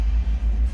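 Engine of a 1978 Fiat 124 Spider idling, heard from the rear of the car as a deep, steady low rumble with slight rhythmic pulses, close and alone.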